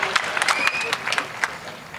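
Audience applause at a student gathering in Osmania University, a dense wash of clapping with shouts and a voice over it, steady and close throughout.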